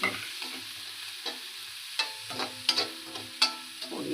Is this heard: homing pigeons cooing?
no